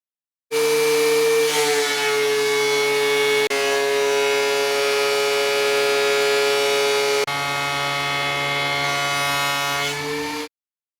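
A Dewalt DW735 planer heard from the end of a driveway makes a loud, sustained whining drone with strong harmonic tones, running steadily for about ten seconds before cutting off, with small shifts partway through.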